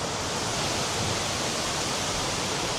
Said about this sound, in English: that waterfall is slowly getting smaller